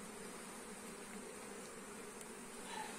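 Honey bees buzz steadily at an open hive being inspected, a dense, even, continuous hum close by and faint, with no voices.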